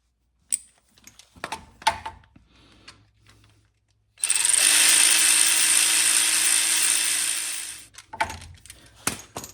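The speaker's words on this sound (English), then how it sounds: "Now you want to tighten up the tensioner." Drive belt tensioner on a 2010 Kia Soul being tightened, heard as a few sharp metallic clicks and knocks, then a loud steady whirring burst of a power ratchet lasting about four seconds, followed by more close taps and clunks.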